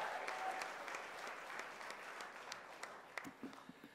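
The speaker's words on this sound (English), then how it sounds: "accept the kind applause from everyone for a great win last night" Audience applause at a cricket ratings awards evening, a steady wash of many hands clapping at moderate level, with a few sharper individual claps and a voice or two showing through near the end.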